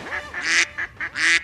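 A man mimics a duck with a run of loud nasal quacks, five or six short honking bursts in quick uneven rhythm, close and alone.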